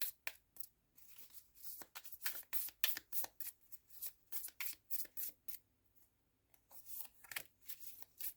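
A tarot deck is shuffled and cards are pulled in a long run of soft, crisp riffles and slides, close and quiet, with short pauses between bursts and no talking.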